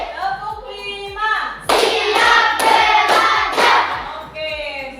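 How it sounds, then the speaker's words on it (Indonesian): A group claps hands in a counted clapping routine: several loud, sharp bursts of claps in quick rhythm fill the middle of the clip, with tonal, music-like sounds before and after. "Tepuk 1. Tepuk 2. Tepuk 3. Tepuk 4. Tepuk 5."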